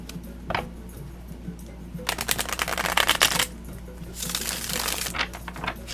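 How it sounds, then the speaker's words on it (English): A sturdy tarot deck, the Tarot the Old Path, is riffled and shuffled close up in a few rapid papery bursts of card flutter and slaps, with quieter handling in between and no talking. "let me give it a quick shuffle"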